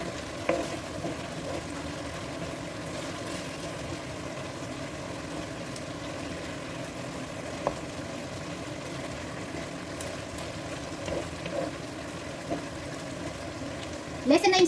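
A pot of pork belly and bangus stew cooking over high heat, giving off a steady low bubbling simmer with faint sizzle throughout, and brief clinks near the end.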